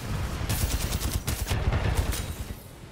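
Gunfire in the video game Titanfall crackles as dense, rapid bursts of shots, moderately loud with quick repeated cracks throughout.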